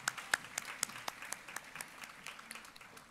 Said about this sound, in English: a big round of applause to all of our academic award recipients this afternoon